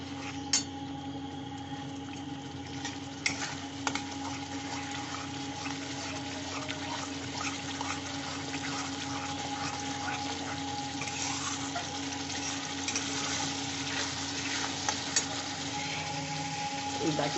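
Spice paste with cashew is sautéed in a pan, giving a steady low sizzle and occasional scraping and stirring taps throughout, with a faint background hum.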